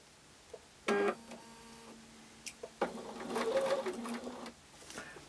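A sewing machine stitches around a change purse in short bursts: a brief run, a pause, then a longer stretch of rapid whirring that fades out, with quiet handling noises between runs.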